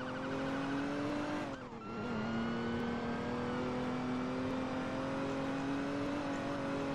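A car in the Roblox game Emergency Response: Liberty County roars along at steady high revs, briefly dipping as it spins out and skids, then accelerating again, loud and continuous with no talking.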